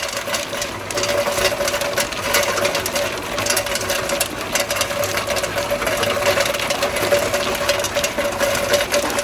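A 3-ton tube ice machine runs steadily with a loud mechanical hum, a sustained tone and a rapid rattling vibration that keeps going without a break and without talk.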